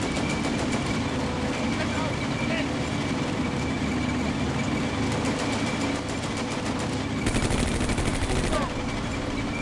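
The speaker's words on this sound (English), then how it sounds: "This machine gun guy has to go." Machine gun fire in the Combat Mission: Beyond Overlord WWII video game rattles in sustained rapid bursts over a dense, loud battle din, with a sharper burst near the end and someone talking over it.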